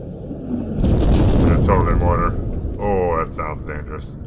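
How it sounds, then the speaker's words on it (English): A mortar shell blast in the military shooter Squad, a heavy rumbling boom that swells and lingers over a couple of seconds, with voices talking over it. "Oh, that's mortar."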